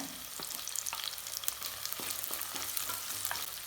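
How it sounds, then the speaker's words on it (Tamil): Onion and seven or eight crushed garlic cloves sauté in hot oil with a steady sizzle, while a spoon scrapes and stirs the pan in occasional sharp clicks. No one speaks. "வெங்காயம் வதங்குறது கூட வைங்க ஏழு எட்டு பூண்டு பல் தட்டி வச்சுருக்கேன் இதையும் சேர்த்து நல்லா வதக்கிக்கலாம்"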